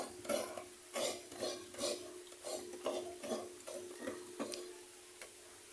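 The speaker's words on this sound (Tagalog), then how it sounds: "nagkakayod tayo ng nyug ulit para dun sa panghagata natin" Coconut grated by hand for coconut milk, a regular series of rhythmic scraping strokes about one per second, close and moderately loud, slowing and fading toward the end, with no talking.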